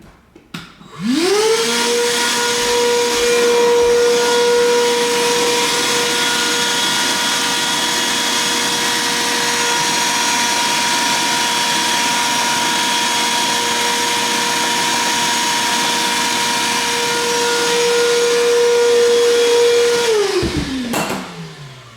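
A vacuum cleaner sucks dust out of a Bang & Olufsen P45 speaker cabinet with the woofer removed, spinning up to a loud, steady whining roar that holds for about twenty seconds before winding down.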